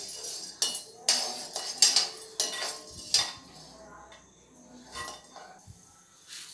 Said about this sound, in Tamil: அரிசியை வந்து பொரி அரிசி மாதிரி வறுத்துக்கோங்க